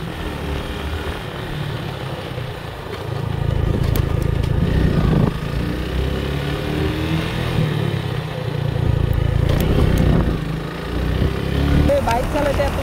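A motorcycle rides along a road crowded with speed breakers, its engine droning loud and close with rises and dips in pitch as it slows and speeds up, while wind rumbles and a rider talks over it.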